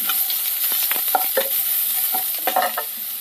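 Onions sizzling in oil in a pan over a medium flame, a continuous bright hiss with repeated stirring scrapes and clacks of a utensil, close and fairly loud.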